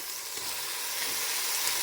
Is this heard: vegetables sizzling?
yes